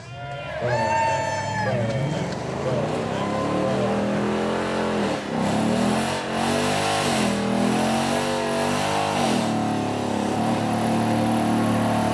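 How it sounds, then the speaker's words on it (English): A Ford Mustang does a burnout at the Beaulieu Supercar Weekend, its engine revving hard and loud with a continuous roar and rising and falling pitch, while voices talk over it. "Is he going to give us another burnout?"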